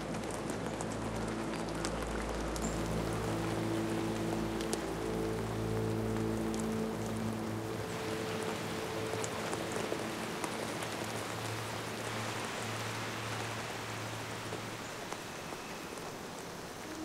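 Steady rain pattering on surfaces throughout, with a low droning hum underneath during the first half; no one speaks.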